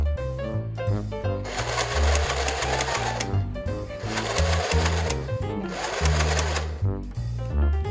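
A toy sewing machine stitching a shirt, its buzzing mechanical whir running in several bursts of a second or two separated by short stops, loud and close, with a few quiet words spoken between runs.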